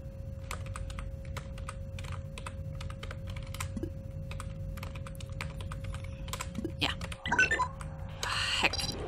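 Steady clicking of keys on a computer keyboard during a session of the game Duskers, quick irregular taps at low level over a faint hum, with a brief rustle and louder clatter near the end.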